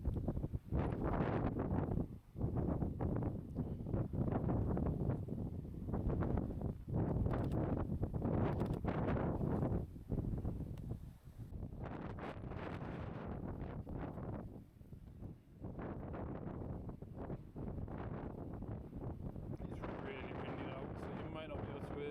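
Heavy wind buffeting a microphone outdoors at a BMW M4 photo shoot, a loud low rumble that gusts and drops throughout, with a person talking over it.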